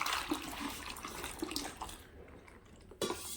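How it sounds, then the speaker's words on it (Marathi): Water being poured into a wheat batter mixture for kurdai, a brief close splashing gush that thins and stops, no talking. "यामध्ये ना परत पाणी घालायचं आपल्याला"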